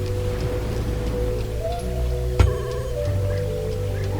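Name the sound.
rain in Minecraft video game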